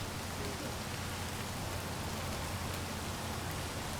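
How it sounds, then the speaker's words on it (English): Heavy rain in the Space Engineers video game roars as a dense, constant hiss of drops, loud and unbroken throughout. "Really loud rain,"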